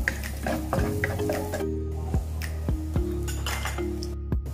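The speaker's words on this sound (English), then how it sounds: "first we heat up the pan and put in the butter. We'll put in the chopped garlic." Chopped garlic sizzles and fries in melted butter in a hot pan while making durian fried rice, with steady frying hiss, a spatula stirring and scraping, and a few light clinks of utensil on pan.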